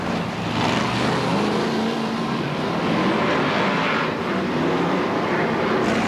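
BriSCA Formula 1 stock cars race at Boston in 1991, a continuous loud engine roar with a rough, droning rumble that holds steady throughout, heard from trackside.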